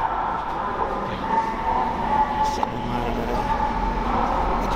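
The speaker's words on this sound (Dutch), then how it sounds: "Ik kan niet meer doen dan, dan deze trein te pakken." A train rumbles steadily close by, a dense continuous roar with a brief squeal partway through, with no clear talk over it.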